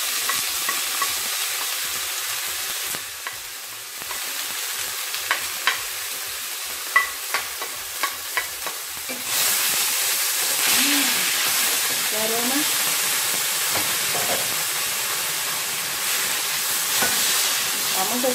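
Chopped onion and sweet pepper for a sofrito sizzle in a pan, quieter at first with a few stirring clicks, then bursting into a loud, dense frying hiss that holds steady, with a voice occasionally heard.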